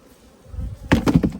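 Bees hum and buzz at an open hive, a faint drone rising into a few louder close buzzing bursts in a short stretch without speech.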